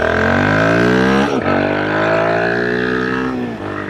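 A Royal Enfield Guerrilla 450 motorcycle engine revs loud and close, its pitch climbing steadily, then dropping briefly at a gear change before rising again.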